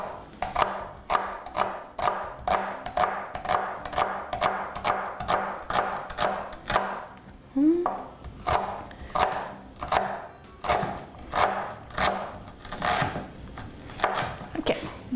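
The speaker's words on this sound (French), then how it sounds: "On va hacher vraiment finement." A knife chops red onion finely on a cutting board in a close, steady run of quick, evenly spaced strokes that continue almost without pause, with a brief break partway through.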